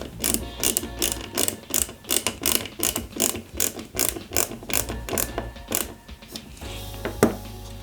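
Screws being tightened into an Eaglemoss Ghostbusters Ecto-1 model with a ratcheting tool, giving a rapid series of regular clicking strokes close up, ending in a final louder click.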